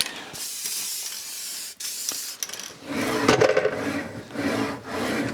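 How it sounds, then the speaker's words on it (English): Dry PTFE spray hisses from an aerosol can in short and longer bursts onto a woodworking machine, close and clear, with some rubbing and handling noise between the sprays. "I'm just going to hit everything with the dry PTFE spray"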